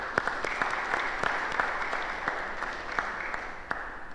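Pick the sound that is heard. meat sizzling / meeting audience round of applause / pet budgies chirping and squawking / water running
meeting audience round of applause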